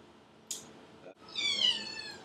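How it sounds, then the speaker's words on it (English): A kitten gives a short, high meow after a sharp click, close and fairly quiet in a kitchen with a faint voice nearby. "This kitten right here."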